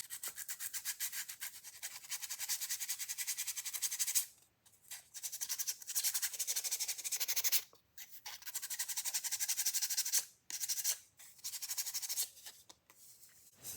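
A sanding block buffs the top layer off printed cardstock, giving close, dry scratchy strokes in several bursts with brief pauses between them.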